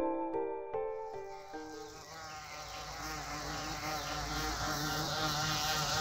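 A swarm of giant wasps attacking a house: after a few opening chime-like tones, a dense, continuous buzzing swells and holds, loud and close.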